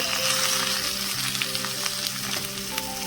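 Potatoes and fenugreek leaves fry in a pan with a steady, close sizzle and crackle, a few soft stirring scrapes standing out against it.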